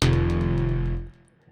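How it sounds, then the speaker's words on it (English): A distorted Serum synth bass preset plays one loud, sustained note with a pulsing, gritty low-end texture, holding for about a second before cutting off abruptly into near silence. "This bass guy is Serum, a new synth"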